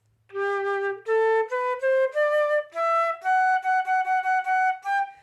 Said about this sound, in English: So have a crisp start to the starts of your notes.